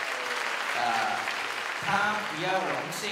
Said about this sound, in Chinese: 不错啦，掌声鼓励一下啊。